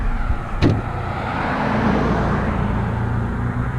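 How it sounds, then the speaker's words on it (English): Road traffic with cars passing nearby, a steady broadband roadway rush with a brief sharp knock early on, continuing evenly without voices. "Man, there's a lot of traffic right now."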